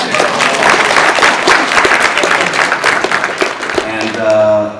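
Loud, close audience applause at a ConnectiCon convention guest panel, thick continuous clapping with crowd noise that gives way to a voice near the end.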